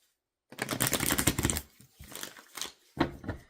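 Tarot cards shuffled back into the deck during a reading, a quick burst of dense riffling followed by a few shorter, softer shuffling bursts, close and clear with no talk.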